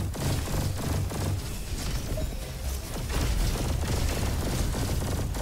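Repeated delayed sticky-bomb explosions from the Pulsar Rifle in the game Roboquest, a dense run of booms and pops layered over continuous game noise and music, without a clear break.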